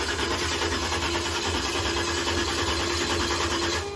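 A Chevrolet Blazer engine runs at a steady idle, close and continuous, with an even hum and faint mechanical ticking throughout and no break in the sound.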